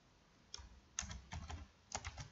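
Code is typed on a computer keyboard in a few short clusters of soft, close keystroke clicks, quiet and with no talking.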